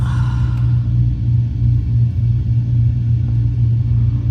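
A Cessna 152 engine droning in flight with the throttle reduced: a loud, steady low rumble and hum filling the cabin, continuous and unbroken throughout.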